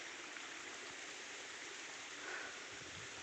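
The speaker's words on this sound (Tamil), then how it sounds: "தண்ணி பாயுது பார்த்தியா" Irrigation water flows through a field channel with a steady, even rushing wash, heard close and continuous with no voices.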